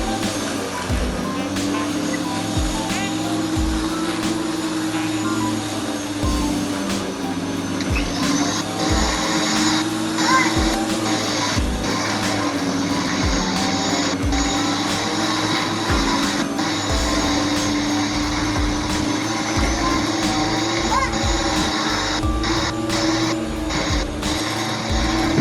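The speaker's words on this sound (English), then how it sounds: "the Ryobi 13-inch 11-amp mower" A Ryobi 13-inch 11-amp corded electric push mower cuts grass with a continuous, loud whirring motor hum and a steady broadband rush, and faint intermittent clicks and thumps run underneath for the whole stretch.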